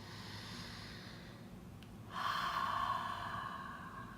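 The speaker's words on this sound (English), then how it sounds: "take a deep inhale in through your nose and exhale out through your mouth" A slow deep breath drawn in through the nose, then a longer, louder exhale out through the mouth, close and alone in a quiet room.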